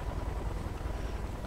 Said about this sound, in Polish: Słyszę zbliżające się śmigłowce.